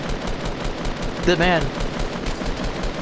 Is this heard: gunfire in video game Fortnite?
yes